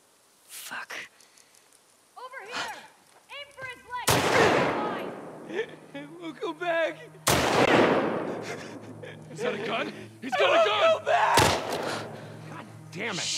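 Gunfire in The Last of Us Part II at a rainy resort: three loud, sharp shots ring out several seconds apart, each with a short decaying tail, amid voices talking and ambient noise.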